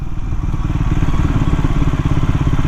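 A Triumph Scrambler 400 XC motorcycle labors in third gear at very low speed, its engine a steady, close, lumpy thudding pulse with a rough, uneven beat, the machine sounding strained.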